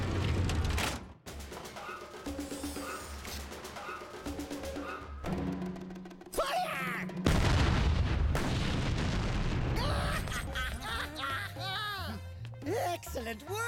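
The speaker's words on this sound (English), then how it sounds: "Prepare the cannon! Destroy that strange green beach puff immediately!" A cartoon cannon fires with a loud booming blast partway through, set among busy music, sound effects and characters talking.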